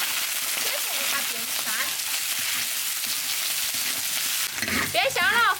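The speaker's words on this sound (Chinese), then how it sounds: "油烧热，把鸡肉煎一下哈" Chicken pieces fry loudly in hot oil in a wok over a farmhouse wood-fired stove, making a dense, continuous sizzle for a Sichuan-style taro chicken dish. A voice is briefly heard near the end.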